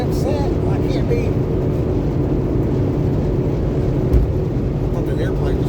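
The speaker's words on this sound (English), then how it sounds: "I thought that airplane was crashing. He's landing." A loud, steady roar of an airplane landing overhead fills the whole stretch with broadband rumble, and faint voices sit underneath.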